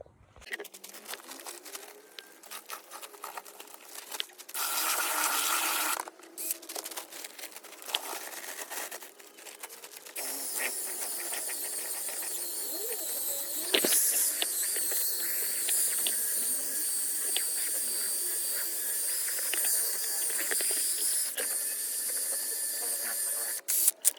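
Freshly mixed self-levelling floor compound poured on a workshop floor, left to sit, gives off a steady close fizzing hiss with faint crackle that continues for the whole stretch, without talk.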